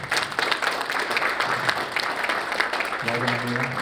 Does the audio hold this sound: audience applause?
yes